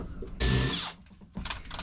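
A power drill bores a pilot hole while a porthole is being replaced on a boat, giving a loud half-second whirring burst, a pause, then a second shorter, rougher run.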